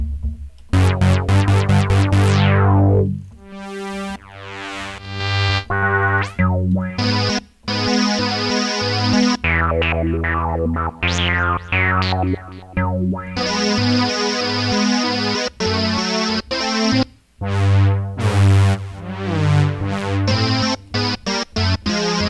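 Roland JX-08 synthesizer playing a run of notes jumping across different octaves, bright buzzy tones with rapid staccato hits and sustained chords, loud and alone.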